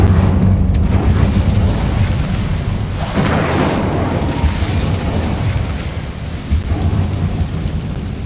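The Incendio fire spell cast in the video game Hogwarts Legacy, a loud, sustained roaring rumble like a fiery blast that swells and slowly fades.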